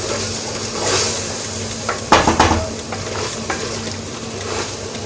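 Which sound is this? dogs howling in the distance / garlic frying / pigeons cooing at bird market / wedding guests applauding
garlic frying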